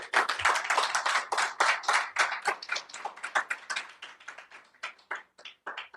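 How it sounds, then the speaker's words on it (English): Clapping from a small crowd at a news conference held by Target boycott organizers, close and crisp, bursting out at full strength and then thinning into scattered, slowing claps. "Would you give them an applause, please?"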